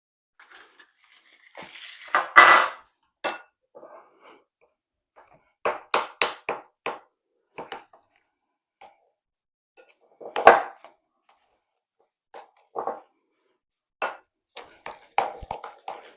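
Eggs being stirred into chocolate chip cookie dough in a bowl, heard as scattered scraping and knocking strokes of a utensil against the bowl, irregular and close, with quiet gaps between bursts.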